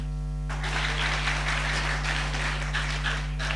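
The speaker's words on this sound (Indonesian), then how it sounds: "Tepuk tangan, tepuk tangan." A crowd at a religious lecture breaks into steady applause after a brief pause, the clapping continuous and moderately loud over a constant low electrical hum.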